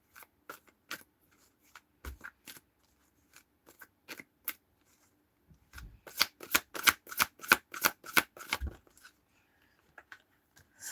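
Tarot cards are riffled and tapped in scattered bursts, then a quicker run of crisp shuffling snaps, close up with no talking.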